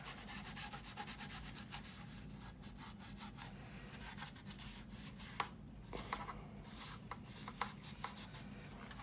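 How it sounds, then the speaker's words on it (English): Steady, dense rubbing and scraping of softened filler or material off the surface of a 1/32 scale plastic B-25 Mitchell model kit, a continuous close gritty friction with a few sharper scuffs near the end, no talk. "And I'm just going to rub it off."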